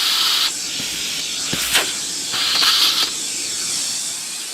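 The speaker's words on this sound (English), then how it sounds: "I'll vacuum this really quick." Vacuum cleaner sucking up aluminium shavings at a workbench, a close steady hissing roar with a few brief surges as the nozzle moves, running alone without talk.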